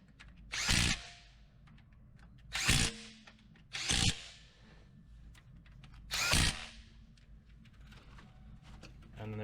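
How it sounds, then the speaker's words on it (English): A Snap-on 3/8-inch impact gun used during a timing belt job on a Toyota 3.0 or 3.4 V6, firing four loud, short rattling bursts separated by pauses, close up over faint workshop background. "one of my favorite tools to use right here. Snap-on impact gun, 3/8."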